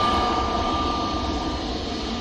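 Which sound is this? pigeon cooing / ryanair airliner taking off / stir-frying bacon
ryanair airliner taking off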